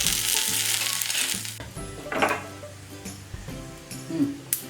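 Mustard seeds, urad dal and one dried red chilli crackling and sizzling in hot oil in a small ladle, a close hissing fry with scattered pops and light stirring clicks, no voices.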